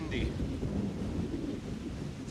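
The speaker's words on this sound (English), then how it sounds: "Oh, it's windy." Wind gusts outdoors at a beehive during an inspection, a low rumbling buffet against the microphone, steady and close throughout.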